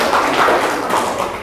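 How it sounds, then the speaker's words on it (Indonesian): Students in a classroom break into brief, dense applause, loud and close, a steady wash of many hands clapping with no talk over it. "Tepuk tangan."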